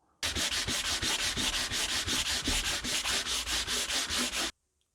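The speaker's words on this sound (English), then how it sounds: "I'm done sanding the table down" Rhythmic back-and-forth sanding strokes rasp across a round wooden coffee table top, loud and close, about twenty even passes before stopping abruptly.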